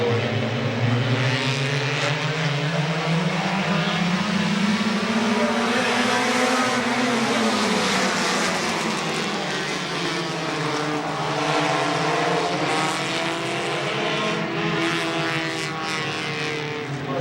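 Race cars roar around a speedway track, one engine note rising and falling as it passes close, with more cars droning steadily behind it for the whole stretch.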